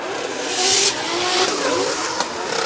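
Formula Drift Japan drift cars, one with a rear wing, run close in tandem with loud, sustained engine roar and revving, plus smeared tire squeal from hard sliding and a brief sharp crack near the end.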